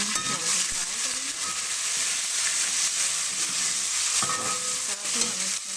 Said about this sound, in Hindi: अब हम अदरक और लहसुन का पेस्ट शामिल कर लें। इसको हम थोड़ा सा फ्राई करेंगे।